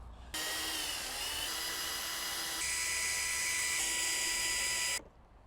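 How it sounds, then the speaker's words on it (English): A power driver with a T25 Torx bit whines steadily for nearly five seconds while backing out bolts on a Can-Am Spyder, its high-pitched motor tone stepping up slightly in pitch partway through, then stopping abruptly. "So first thing, T25 and remove 4 bolts."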